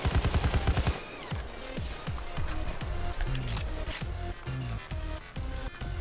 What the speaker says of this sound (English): Probably heard the gunfire too, because I'm kind of using a scar.